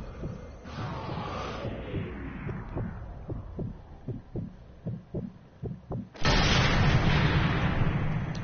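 In the Sniper Elite III video game, a slow, rhythmic heartbeat thumps under a low hum, then a sniper rifle shot breaks in as a sudden, loud, sustained blast.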